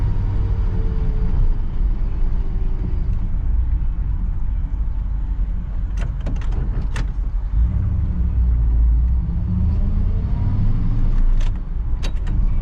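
A 1959 Chevy Bel Air drives along with a steady, close, low engine rumble and road drone, broken by a few brief light clicks and jingles partway through and near the end.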